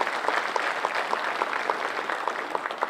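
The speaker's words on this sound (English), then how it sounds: "Please give him a round of applause." An audience at the 2021 Texas Forest Country Partnership Summit applauds after a judge's speech: dense, steady clapping from many hands, loud and continuous throughout.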